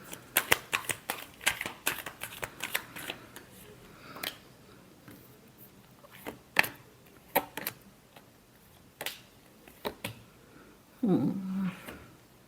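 Tarot cards being shuffled by hand, quiet crisp riffles and flicks in irregular bursts and taps, close up, with a brief voice-like sound near the end.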